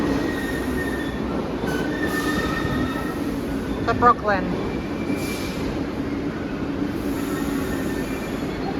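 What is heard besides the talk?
subway train arriving at station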